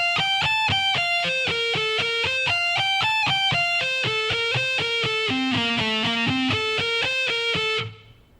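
A lick played at slow tempo on a distorted electric guitar: a steady run of sustained single notes moving up and down the neck, ringing loud and alone before a brief fade at the end.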